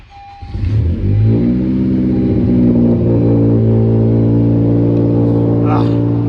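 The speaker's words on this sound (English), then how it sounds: "turn your car on, let it idle for about 5 or 10 minutes" A 10th gen Honda Civic Si engine cranks and catches about a second in, then settles into a steady, close, loud idle that holds to the end.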